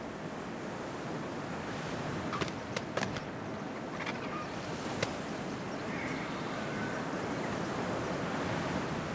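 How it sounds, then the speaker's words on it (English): Waves on the Amazon River washing steadily with a broad, continuous surf-like roar and wind noise, a few faint clicks over the constant wash. "The waves your eyes are contemplating come from the river."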